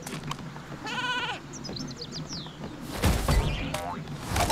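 Sheep Creep, a sheep character in the video game Skylanders Trap Team, bleats in wavering, nasal cries. They ring out over game sound effects and background music, with a sharp whack near the end.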